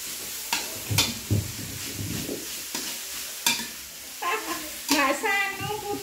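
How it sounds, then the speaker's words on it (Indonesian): Shredded chicken being stirred in a pan over lowered heat: a soft sizzle underneath, with scraping stirs at intervals and a voice chattering nearby near the end. "kita masukkan ayamnya. Apinya dikecilkan dulu. Kita aduk terus sampai merata."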